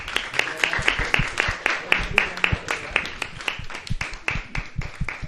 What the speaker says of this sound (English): Please keep the applause going.